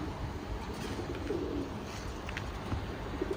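Pigeons kept for flying coo in a soft, low, repeated murmur close by, with a steady bed of ambient noise and no talk.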